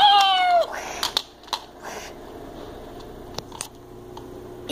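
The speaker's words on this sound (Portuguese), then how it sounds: "Esse gato gostou de mim." A pet cat gives one clear, close meow that falls in pitch, followed by faint clicks and crunching sounds in a quiet indoor room.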